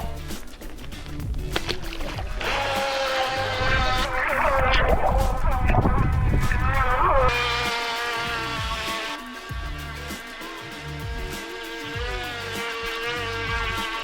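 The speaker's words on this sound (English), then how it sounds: "This boat is really fast and really good in its turns." Bezgar TX123 RC boat speeding across water, its small electric motor giving a steady high-pitched whine that rises and bends through turns, with splashing and a brief voice near the start.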